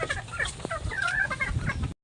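Pet chickens at a farm cluck in short, scattered bursts, a few hens close by and fairly quiet, with no talking over them.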